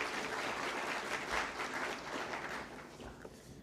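A conference audience at a national technical textiles conclave gives a sustained round of clapping after a government official is honoured with a shawl. The applause stays dense and even, then thins slightly toward the end.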